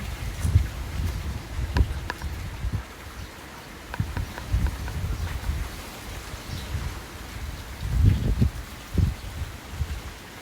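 Wind moves through tree branches in a home garden, giving a soft continuous rustle with gusty low buffeting that swells and eases throughout, and no one speaking.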